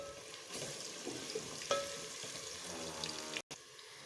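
Garlic goes into onions already browned in ghee in a pan, giving a soft steady sizzle with a few small crackles, quiet and close, no talking.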